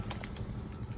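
Short, bright green parakeet calls repeat a few times over steady background noise, from nearby trees.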